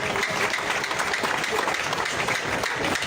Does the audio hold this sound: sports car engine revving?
no